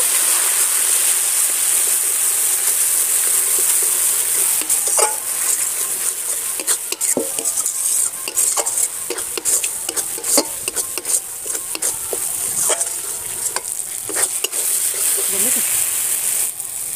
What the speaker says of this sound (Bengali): আর জলটা দিয়ে ভালো করে মশলাটাকে কষেও নেব।